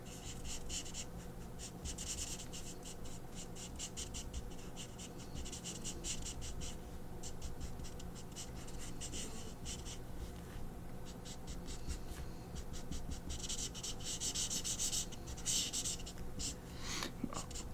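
A large chisel-tip marker scratches and rubs across paper in quick, continuous strokes while coloring in a reindeer drawing, close and steady with bursts of faster scribbling and brief pauses.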